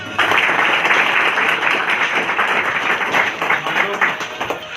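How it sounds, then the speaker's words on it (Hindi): A crowd claps steadily and loudly for several seconds, a dense wash of many hands with no pause, at a direct selling company event. "तो एक बार फिर ताली हो जाए।"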